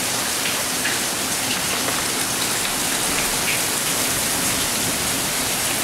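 Steady rain falls across southeastern Louisiana, a dense, even hiss of drops pattering on surfaces that holds loud and unbroken throughout, with no voices.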